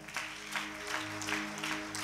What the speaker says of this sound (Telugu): కొట్టు గట్టిగా చప్పట్లు